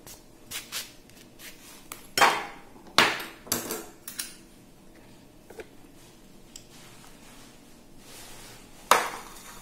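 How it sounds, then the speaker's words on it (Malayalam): Passion fruit being cut open and scooped out for juice gives a few scattered sharp knocks and scrapes of a knife and spoon against the shell and a hard surface, isolated clicks separated by quiet pauses. "ആദ്യം തന്നെ നമുക്ക് ഇത് കട്ട് ചെയ്തിട്ട് ഇതിൻ്റെ ഉള്ളിലത്തെ പൾപ്പ് എടുക്കാം."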